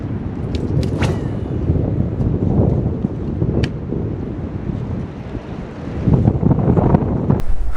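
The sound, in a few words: strong wind blowing into the microphone while fishing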